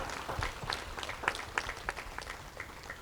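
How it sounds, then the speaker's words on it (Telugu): Church congregation at a Velankanni Arogya Mata birthday festival in Diesel Colony, Warangal, clapping for Mother Mary, a fairly soft, scattered round of applause with distinct individual claps. "ఒకసారి గట్టిగా చప్పట్లు కొడదాం మరియ మాతకి"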